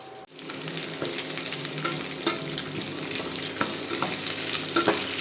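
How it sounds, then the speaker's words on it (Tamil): Mustard seeds splutter in hot oil as sliced onion, dried red chili, curry leaves and garlic are added and stirred, giving a steady close sizzle with scattered sharp pops and scraping stirs. "கடுகு நல்லா பொரிய ஸ்டார்ட் ஆகிடுச்சி நல்லா பொரியணும்"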